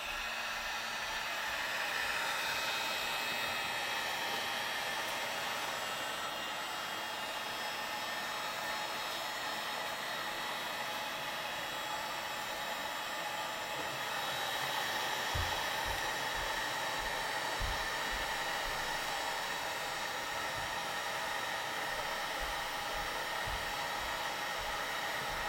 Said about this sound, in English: You can use a pan for this, but personally I prefer to use a heat gun.